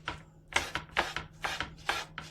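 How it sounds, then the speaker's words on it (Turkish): Bananas chopped into quarters on a board for a caramel banana tartlet, five or six crisp knife chops spaced about half a second apart, close and clear. "Orta derecede böyle dörde bölerek muzlarımızı doğrayacağız."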